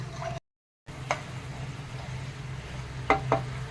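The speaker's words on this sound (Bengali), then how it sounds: "ঝোলটা ফুটে গেছে" A bhola fish mustard-poppy curry gravy bubbles in a pan, a low steady simmer with a brief break in sound and a few clicks and clinks near the end, no voices.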